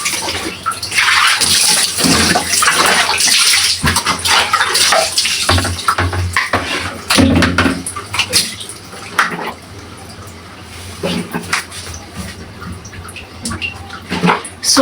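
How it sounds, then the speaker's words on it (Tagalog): Water poured out of a bucket in a splashy, irregular series of gushes and drips, loud and close, with a dog whining faintly at times and no talk. "ubusin natin yung tubig dito sa ating timba"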